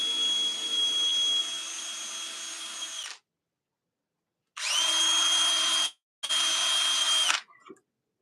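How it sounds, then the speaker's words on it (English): Power drill boring holes in wood one at a time: a long whining run, a pause, then two shorter bursts separated by a brief gap, loud and close with no talk. "We'll go ahead and drill one at a time."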